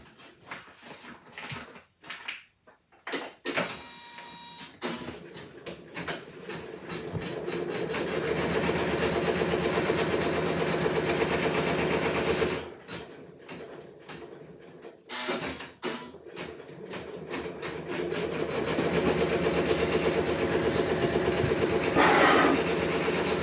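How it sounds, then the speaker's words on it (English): A Brother ScanNCut embroidery machine stitches a placement line, giving a steady mechanical whirring hum that runs in long stretches, broken by short pauses and a few clicks. "it's just a case now of stitching out the first placement line."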